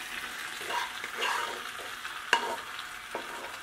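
Pork trotters stir-fried with tomato, garlic, ginger and chili hiss softly in oil, with spatula scrapes, a few sharp clacks and bursts of sizzle, close and fairly quiet.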